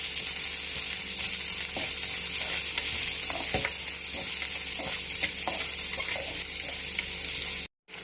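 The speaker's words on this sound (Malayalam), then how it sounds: "ഇനി അതിലേക്ക് ഈ മുറിച്ച് വെച്ച ഉള്ളി, ഈ ചുവന്ന മുളകിന് പകരം പച്ചമുളകോ നമുക്ക് കാന്താരി എല്ലാം ഇട്ട് കൊടുക്കാം" Sliced onions and green or kanthari chillies frying in a pan for Palakkad mulakuvaratha puli: a steady loud sizzle with occasional stirring scrapes, cutting out briefly near the end.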